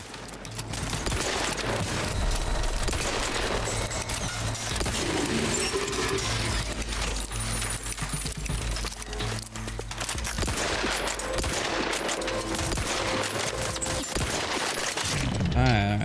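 Sustained gunfire in the video game Outer Worlds 2, dense bursts of shots over a noisy, continuous battle soundscape lasting the whole stretch, with a voice talking in places.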